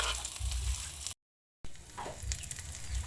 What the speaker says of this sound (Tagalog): Nilagay ko na rin ang sibuyas at bawang at pinikos-mikos na.